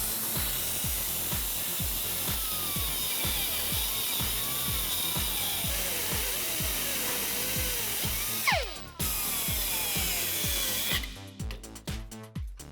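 A power tool, a Sawzall or cutoff wheel, cuts down the threaded U-bolt studs on a 2004-2014 Ford F150 during a leveling kit install, a loud, harsh, steady grinding with rhythmic pulses, then broken, sputtering bursts at the end.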